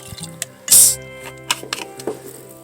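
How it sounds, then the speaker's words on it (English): Simple syrup going into a rabbit brush flower infused bourbon cocktail, heard as a short pour with a bright liquid splash and a few small drips and clinks around it, close and fairly loud. "I'm gonna add some simple syrup to it, so it'll make everything better."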